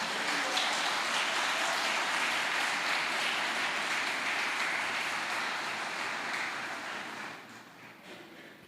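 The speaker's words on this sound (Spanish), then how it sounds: "Dale un fuerte aplauso al Señor" A church congregation applauds after a sermon on forgiveness, a broad sustained wash of clapping that stays steady for several seconds and then fades toward the end.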